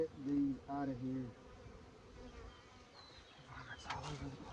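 Honeybees swarming around an opened hive frame outdoors: a close, wavering insect buzz with a few louder passes near the microphone, fairly quiet overall.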